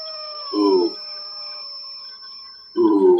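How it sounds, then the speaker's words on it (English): Two short howl-like animal calls, taken as a wolf at night, rise loud and close with a quiet gap between them, over a sustained high electronic tone and other steady music-like drones. "The figure appears just as a wolf begins to howl in the night."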